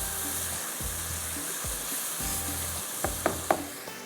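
Spices fry on a high flame in a pan, a steady hissing sizzle broken by stirring scrapes and a few sharp clinks of a utensil near the end.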